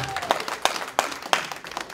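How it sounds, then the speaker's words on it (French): Audience applauding a consul general at a 2018 New Year's greetings event in New York, scattered claps with a few sharper accents over a light crowd murmur. "nous devons l'applaudir, nous devons l'encourager"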